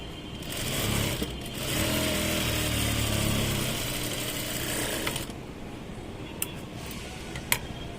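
A sewing machine stitches blouse fabric in bursts of rapid mechanical clatter for about five seconds, then stops, leaving a quieter background with a couple of sharp clicks.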